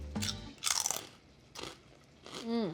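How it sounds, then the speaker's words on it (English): Crisp crunching and snapping of brittle pork rinds being broken apart by hand, several short bursts with brief pauses between. "break the chicharrón into pieces and add them to your salsa"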